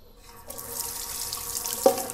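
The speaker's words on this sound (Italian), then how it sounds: "risciacquatina allo squalo con acqua calda, risciacquatina al viso con acqua fresca" Tap water runs steadily into a sink while a Muhle R41 razor and a face are rinsed, a fairly quiet, even splashing flow that starts after a brief pause and ends with a small clink.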